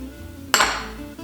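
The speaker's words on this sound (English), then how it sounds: "We're going to put our lid on here" A metal lid set down on a pot of corned beef with brown sugar and onions, one sharp close clank followed by a brief ringing decay, then a light tap.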